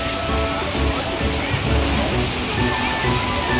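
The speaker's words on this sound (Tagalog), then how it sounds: "may malaking bucket na maghuhulog ng maraming tubig" Water pours and rushes in a steady, loud roar at an outdoor kids' water play area, where a large bucket dumps its load, with voices faintly audible under the splashing.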